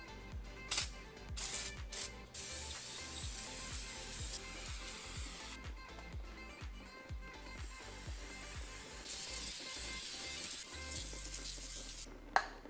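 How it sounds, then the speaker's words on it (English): Gunk engine degreaser sprayed onto a car engine bay during a DIY engine paint job, heard as a series of close, hissing aerosol bursts with short gaps between them and a longer spray near the end. "taking the gunk engine degreaser and spraying the engine down here"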